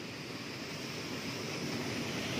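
Fast-flowing river water rushes steadily as a dense, even roar, close and loud with no break, at a popular bathing spot after rain.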